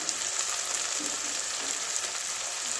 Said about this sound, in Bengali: এটাও দিয়ে দিচ্ছি, এটা ভালো করে পেঁয়াজের সঙ্গে ভেজে নেব